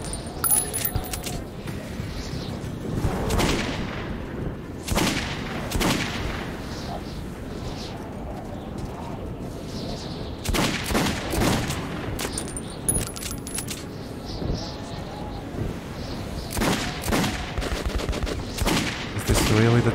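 Gunfire from the Metro 2033 video game rings out in scattered sharp bursts and single shots across a murky underground ambience. Metallic clinks and speech-like murmurs sit in the mix.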